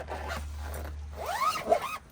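A zipper is pulled up inside a Mercedes Sprinter adventure camper van in a couple of quick, rasping strokes, close and clear.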